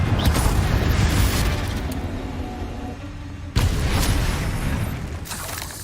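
Confringo blast spell explosions in the Hogwarts Legacy video game, a loud booming burst with rumbling debris that decays, then a second sharp blast hits midway and rolls on, no talk over it.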